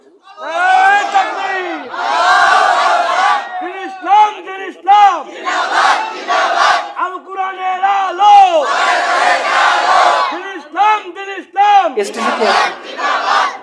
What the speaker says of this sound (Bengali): আবার দিন তাকবীর, আবার দিন